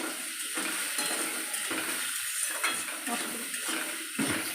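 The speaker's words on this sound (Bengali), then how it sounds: "নেড়ে নিয়েছি" Chicken soup ingredients stirred in a pot after salting; a constant sizzling hiss with repeated scraping stir strokes at a steady rhythm, close and moderately loud, with no talking.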